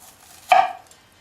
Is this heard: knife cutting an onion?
yes